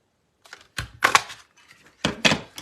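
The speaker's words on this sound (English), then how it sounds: "we can take our modern oval punch, and that'll save us a little bit of cutting" A modern oval paper punch pressing through paper in a handful of sharp, close clunks and snaps, with a couple of quieter clicks between.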